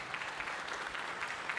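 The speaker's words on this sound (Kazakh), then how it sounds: "қане шапалақ ұрып отырайық" Wedding guests clapping together in a hall, a soft, continuous patter of applause heard from a distance.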